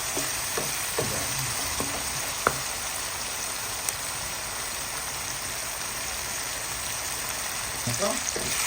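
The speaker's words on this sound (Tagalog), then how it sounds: "ginigisa po natin siya sa patis, ang ating bawang, sibuyas, luya, ang ating fried chicken, fried wings" Garlic, onion and ginger sautéed with fried chicken wings in fish sauce for arroz caldo: a loud, continuous frying sizzle fills the clip, with scattered spoon scrapes and taps, mostly at the start and end.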